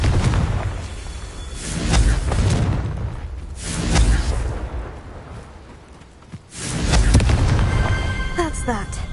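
Deep, rumbling blasts from the Confringo explosion spell in the Hogwarts Legacy video game boom loudly in several waves, with a voice speaking over the game sound.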